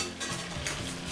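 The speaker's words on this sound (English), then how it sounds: "And while our vegetables and the meat is simmering a little bit" Vegetables and meat sizzle and are stirred in a wok over low heat, a steady close frying hiss with soft scraping stirs throughout the brief moment.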